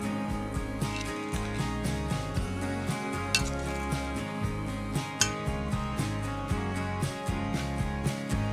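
A utensil clinks and scrapes against a bowl in quick, repeated strokes while fresh peaches are stirred with lemon juice, the taps close and fairly regular.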